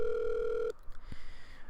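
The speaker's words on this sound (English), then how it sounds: "the phone's still ringing" An old landline telephone ring in an empty house hall, a steady electronic tone that stops partway through, then quiet room noise with a soft knock.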